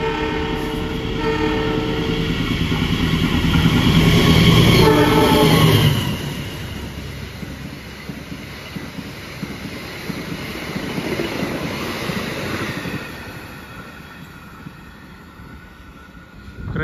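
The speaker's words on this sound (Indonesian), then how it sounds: "Kereta eksekutif dan ekonomi New Generation Stainless Steel. Ngebut coy." A New Generation stainless steel train with executive and economy cars rushes past fast at a Magetan station, a loud horn blast and roaring wheel clatter up close that fade gradually as the cars recede.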